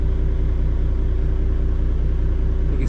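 A diesel owner-operator's truck engine running steadily during a diesel particulate filter regeneration, a loud, continuous low rumble with a throbbing idle pulse that vibrates the cab, with no talking.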